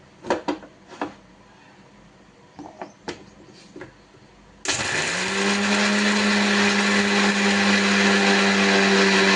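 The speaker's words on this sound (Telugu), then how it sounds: "మిక్సీ" A few clicks and knocks, then a mixer grinder starts up and runs loudly and steadily with a whining motor drone.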